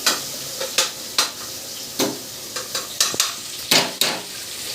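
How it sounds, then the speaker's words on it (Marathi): Tomatoes soften in a sizzling pan for biryani, with a steady frying hiss broken by repeated sharp scrapes and clinks of a spoon stirring against the metal, close and fairly loud. "बघा असं टमाटे मऊ करून घेते टमाटे छान मऊ केल्यानंतर"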